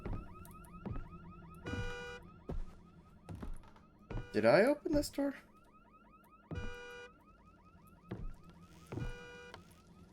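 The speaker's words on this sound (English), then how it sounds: "I'm assuming it has something to do with that honking car." A car alarm in the horror video game Visage honks in repeated short bursts, loud and nearby, with a brief clatter midway and a person talking over it.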